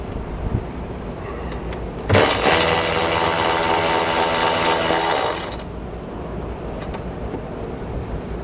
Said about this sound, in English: We're going to remove the nut.